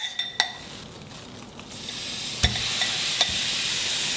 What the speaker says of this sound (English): That sizzle is speaking to me.